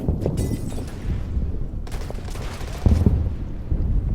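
Troops fire in a Pacific war strategy game on Okinawa, with dense bursts of gunfire and rattling volleys that come loud and close, alone without talk.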